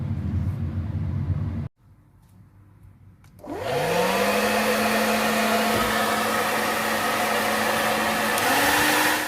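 A hair dryer blows hot air over its own freshly washed filter to dry it, starting with a loud steady blast, cutting out briefly, then roaring back with a rising motor whine that holds steady at close range.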